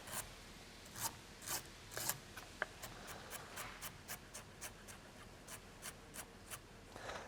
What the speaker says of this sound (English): I start by chopping up the lemongrass into really fine pieces, like so. The galangal as well, into nice slices.